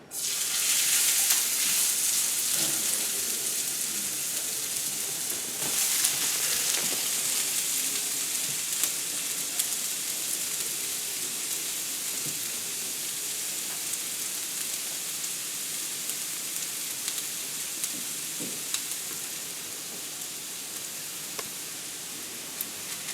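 Shredded potatoes for hashbrowns frying in an oiled pan, giving a loud, continuous crackling sizzle that stays close and steady throughout, with no voices.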